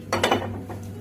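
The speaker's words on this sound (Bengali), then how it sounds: "প্রথমে আমি গ্যাসটা ধরিয়ে কড়াইটা চাপিয়ে নিলাম।" A cooking pan set on a lit gas burner gives two or three quick metallic clanks over a steady low burner rumble, close and brief, with no talking.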